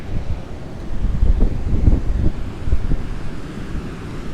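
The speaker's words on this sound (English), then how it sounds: "It's gonna be interesting to cook too with how windy it is." Strong, gusty wind buffets a sandy, desert-like beach campsite beside the ocean, roaring and whooshing into the microphone in uneven surges throughout, with no talking.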